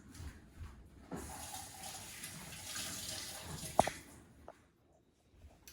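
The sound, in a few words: quick rinse under running tap water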